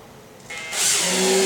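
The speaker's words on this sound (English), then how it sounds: "Using our drill driver, place the screws in the hole" A drill driver whirs up to speed, its motor pitch climbing briefly before running steadily, close and loud, driving screws while fitting an interior door latch.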